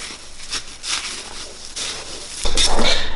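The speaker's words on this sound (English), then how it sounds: "I'm just going to kind of obviously stir this around" Food mixture stirred in a dish during cutting meal prep, giving soft repeated scraping and clinking strokes that grow louder and busier near the end.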